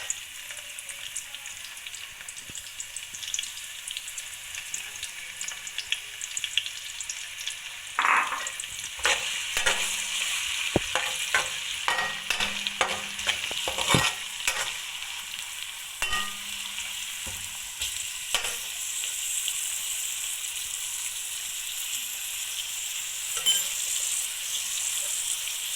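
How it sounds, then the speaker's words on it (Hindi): Finely chopped onions fry in extra oil for spinach, chicken and potato curry, a steady close sizzle with a burst of crackling and stirring scrapes midway before settling back to an even hiss. "पालक में हम थोड़ा सा ऑयल ज़्यादा लेंगे और इसमें प्याज शामिल करें।"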